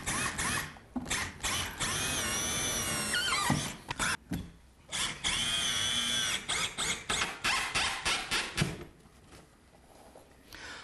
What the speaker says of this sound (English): We're going to attach this strapping to the back side of our fiberboard simply by screwing through the surface of our plaster.